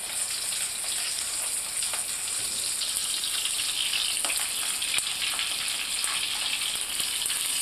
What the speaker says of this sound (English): take the fish skin down into your frying pan on top of your melting butter